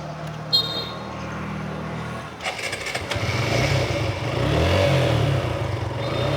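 A Suzuki Gixxer motorcycle at a second-hand bike showroom starts up partway through, its engine catching and then running and revving steadily at moderate loudness with no talk over it.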